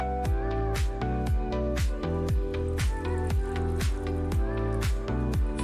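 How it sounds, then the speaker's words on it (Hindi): Freshly made chhena for rasgulla, gathered in cloth and squeezed by hand, gives off repeated wet squishes and drips of water in a steady rhythm, close and clear with no talking. "चलिए अब इसको हम बटोर कर इस तरह से जितना भी पानी है ना इसका को निचोड़ देते हैं।"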